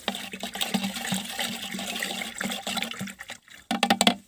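Instant lime is stirred into water in a vessel to make a Bordeaux spray mix. The liquid sloshes and swirls close by in uneven bursts, briefly stops, then splashes again with no voices.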